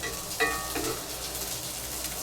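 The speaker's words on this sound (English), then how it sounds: "And here it comes. It's starting to sizzle" A steady, soft sizzle of tofu and egg frying in a pan, with a brief clink of a utensil early on, fairly close and continuous.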